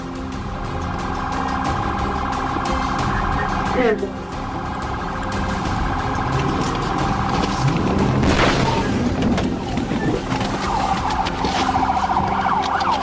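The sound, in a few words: police car head-on collision with fleeing car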